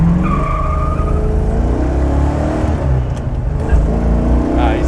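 American Dodge Charger with a 7.2 litre engine accelerating hard, a loud, deep, continuous engine roar with rising revs heard from inside the car.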